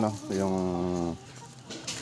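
A silkie mother hen gives a short, sustained clucking call up close, followed by quieter background noise.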